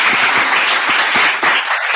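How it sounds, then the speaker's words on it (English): Audience at a student demo day closing event clapping, with loud, dense applause in which individual claps stand out, dipping briefly before carrying on. "let's clap again."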